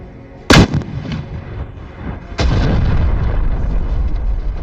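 Two heavy artillery blasts, the first sharp and booming, the second followed by a sustained rumbling roar that lingers to the end.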